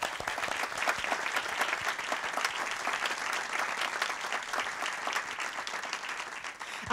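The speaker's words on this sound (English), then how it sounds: "Let's give him another round of applause." Audience applause for a young performer at a classical music showcase: steady, dense clapping from a full hall, even and sustained throughout without voices standing out.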